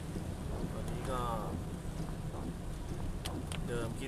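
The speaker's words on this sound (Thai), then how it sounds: "ฝนตกอย่างต่อเนื่องจริงๆนะครับ" Steady rain falls continuously during a cold-season evening downpour, a dense broadband hiss with gusty wind buffeting the microphone and a faint voice speaking in the background.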